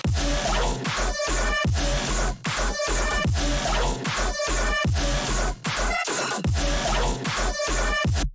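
A pounding electronic drop with heavy bass kicks in a steady pattern and chirpy high-pitched synth sounds layered over it, loud and dense.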